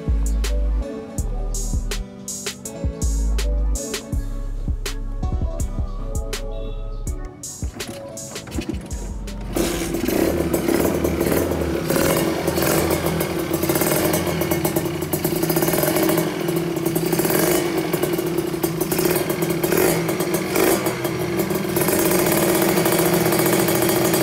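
A Kawasaki Ninja 150 RR two-stroke fitted with an original Thai DBS Super Cobra aftermarket exhaust, heard close up: a few sharp, choppy throttle blips give way to a sustained, loud, raspy high-rev drone that holds steady to the end.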